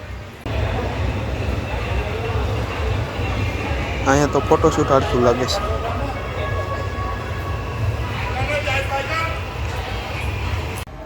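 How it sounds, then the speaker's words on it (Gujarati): A passenger train pulls out of Vadodara railway station bound for Ujjain, its steady low rumble and rolling wagon noise running throughout, with a brief squeal of wheels on rails midway and people talking over it. "હવે અમારી ટ્રેન નીકળી ગઈ ઉજ્જૈન જવા માટે."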